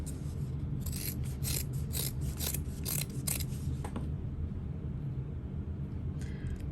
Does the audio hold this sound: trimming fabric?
yes